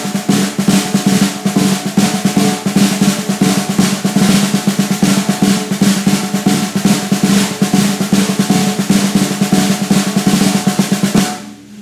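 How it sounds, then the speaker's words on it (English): Continuous snare drumming in a steady triplet pattern, with accented strokes buzzed into short rolls, loud and close for about twelve seconds. "Now I'm going to buzz the accents"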